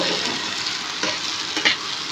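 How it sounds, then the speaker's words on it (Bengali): Spices and onion fry in a pan for a duck egg dish, making a steady hiss and crackle of hot oil with a few light stirring scrapes, close and alone. "এইভাবে ভেজে নেবেন মশলাগুলোকে।"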